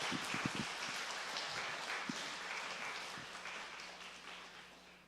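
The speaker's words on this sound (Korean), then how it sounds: "우리 부활하신 예수님께 영광의 박수를 올려드리겠습니다" A church congregation applauding in praise during an Easter service, a dense continuous wash of many hands clapping that fills the room and slowly tapers off, with a few low thumps near the start.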